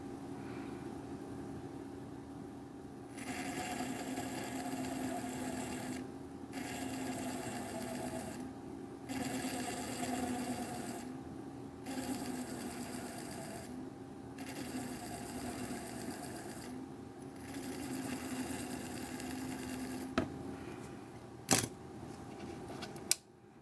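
A potter's wheel spins steadily with a constant motor hum while miniature porcelain pots are worked, the whir briefly dipping at regular intervals and a few small knocks near the end.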